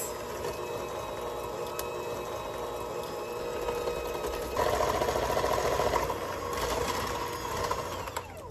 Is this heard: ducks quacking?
no